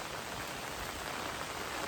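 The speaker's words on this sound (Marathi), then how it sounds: "पाऊस पण सुरुवात झाली पडायला तुम्हाला आवाज येत असेल छत्रीचा" Monsoon rain patters steadily on an umbrella during a walk toward a village river in the Konkan, a close, even hiss of drops with no pauses and no voices.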